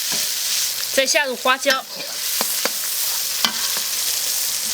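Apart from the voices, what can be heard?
pickled chilies stir-frying in wok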